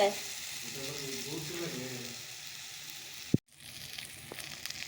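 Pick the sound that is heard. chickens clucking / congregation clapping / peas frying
peas frying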